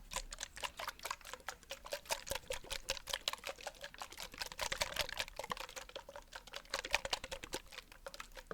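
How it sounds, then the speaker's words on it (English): A simple handheld spray bottle spritzed many times in quick succession, producing a dense run of short, close, hissing puffs with no talk. "Just a simple spray bottle. All I'm gonna do is just spritz this a few times"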